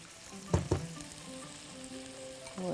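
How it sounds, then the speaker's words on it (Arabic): Sausage frying in a pan while tomato paste is stirred in, with a soft continuous sizzle and a couple of brief scraping stirs near the start, quiet and close. "هحط معلقه كبيره من الصلصه وايه هنقلب"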